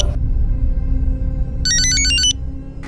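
A telephone in a crime drama rings in one short electronic burst of warbling tones partway through, over a steady low room hum with no talking.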